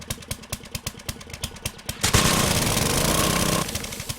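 Auger in the survival game 7 Days To Die, first a rapid rhythmic chugging of the motor, then a loud sustained grinding roar as it bites in, fading slightly near the end, with no talk.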